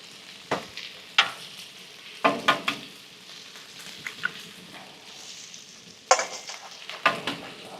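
Eggs crackle on a hot Weber Slate 36-inch griddle, a steady soft sizzle broken by sharp scraping and tapping of a spatula at irregular intervals.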